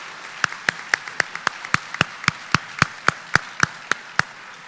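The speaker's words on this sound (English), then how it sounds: "another round of applause for the tremendous support from our community members" At a school awards day, slow, evenly spaced claps sound one at a time in a steady rhythm, thin and distinct rather than a full crowd's applause.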